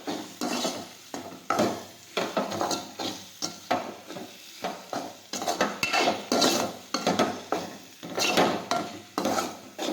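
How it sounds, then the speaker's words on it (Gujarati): A spoon scrapes and clanks in a pan as spices are mixed into cooking tanjaliya greens, in irregular strokes over a soft, steady sizzle. "હવે બધા મસાલા છે તે મિક્સ કરી દઈશું"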